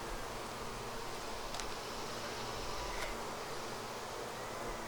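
Dense, steady buzzing of many honeybees during an open hive inspection, loud and close throughout with a couple of faint clicks.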